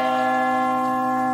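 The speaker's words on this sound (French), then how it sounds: "La lourde cloche commença à sonner." A heavy church bell rings alone, one sustained stroke with a rich cluster of steady humming overtones that hangs and slowly decays.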